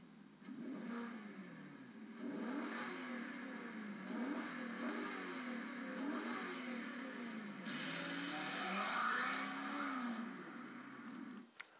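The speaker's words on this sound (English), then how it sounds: "Says here that we can also listen to the engine, so let's see how that might sound." A 2021 Maserati Quattroporte Trofeo V8 engine drones and revs steadily for about twelve seconds, a continuous played-back recording with rising and falling engine tones and no talk.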